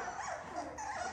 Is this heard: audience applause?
no